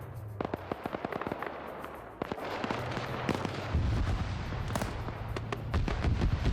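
Rapid, crackling gunfire rounds ring out in Arma 3, a Sierra Leone campaign firefight with a .50 cal turret nearby, irregular bursts of sharp shots at middling distance over a rumbling background.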